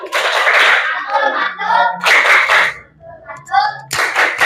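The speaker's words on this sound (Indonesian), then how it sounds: "Kita beri tepuk mantul dulu untuk kelompok 3" A classroom of students performs a patterned clapping cheer for group 3, short bursts of claps alternating with chanted voices in a quick call-and-response rhythm.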